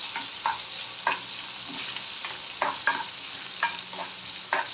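Chopped green chilli and other ingredients sauté in a hot pan, a loud, continuous sizzle punctuated by regular scraping strokes of a spatula stirring them.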